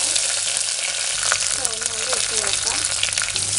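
Dried red chillies crackle and sizzle as they drop into hot coconut oil already popping with mustard seeds, a dense continuous frying hiss with sharp spitting pops throughout, loud and close, with no talking.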